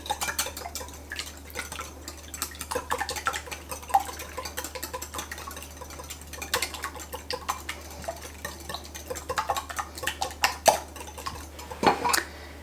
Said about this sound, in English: have 6 whole eggs. And I'm going to whisk those together